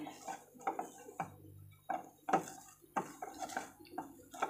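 Gulab jamun dough is mixed by hand in a bowl, giving a series of soft irregular taps and knocks of fingers and dough against the bowl, quiet and close, with no talking.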